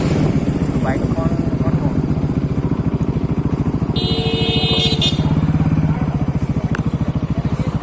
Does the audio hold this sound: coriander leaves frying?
no